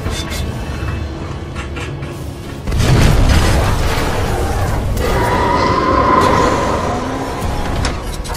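Deep booming blasts erupt and rumble on in Titanfall 2, heavy low explosions with a mechanical, electronic-sounding texture, loud and sustained after a sudden onset.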